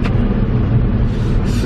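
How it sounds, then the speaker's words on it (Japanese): Rain water spraying off the tires of a Toyota Prius on a wet road, a steady loud hiss layered over low road rumble heard from inside the car. "後ろのほんと水のシャーっていう音がね"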